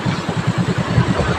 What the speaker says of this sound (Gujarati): રસ્તામાં બાઇક લઈને જઈ રહ્યા છીએ આપણે